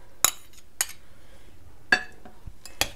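A spoon clinks against a bowl while mixing onion stuffing for chicken pastilla, giving four or five sharp, separate metallic taps spread unevenly over a few seconds, close by and fairly quiet, with no talking.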